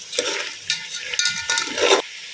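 Ginger garlic paste frying in a pan for chicken gravy, a close crackling sizzle broken by a few scraping stirs, short bursts of hiss rising and falling over about two seconds.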